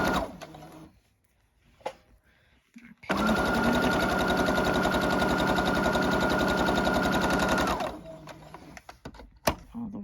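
A sewing machine stitches a friendship star quilt block in one steady, loud run of about five seconds, with fast even needle strokes. Quiet handling noises come before and after the run.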